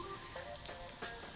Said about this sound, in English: A little bit of oil, my garlic goes in, and then we'll directly put in our ground pork.